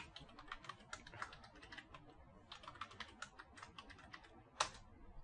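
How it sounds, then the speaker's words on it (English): Quiet, close clicking of a computer keyboard as a password is typed, in irregular bursts of keystrokes with one sharper tap near the end, no talk. "the root password, it's necessary that we have a root password, so I'll just type it."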